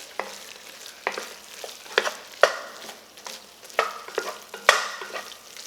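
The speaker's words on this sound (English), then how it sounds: "And you're going to keep stirring this down" A gumbo roux for chicken, shrimp and andouille sausage is stirred in a pot, giving soft scraping strokes roughly once a second over a low, quiet sizzle, close and without speech.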